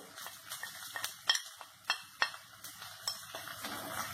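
Quiet stirring in a pan as ginger paste, garlic paste and ground spices such as turmeric are worked in, with light scrapes and several sharp metallic clinks in an irregular rhythm.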